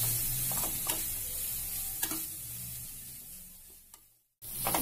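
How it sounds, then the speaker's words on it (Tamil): Carrot, cabbage, onion and chilli sautéing for egg fried rice, a steady close sizzle with scraping stirs, briefly cut to silence before resuming. "கேரட் முட்டைக்கோஸ் நல்லா வதங்குற அளவுக்கு, வெங்காயம் எல்லாம் சேர்ந்து வதங்குற அளவுக்கு நல்லா கிண்டி விட்டுக்கோங்க"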